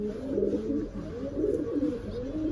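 A racing pigeon coos softly in a loft, low rolling calls repeating continuously at close range with no talking over them.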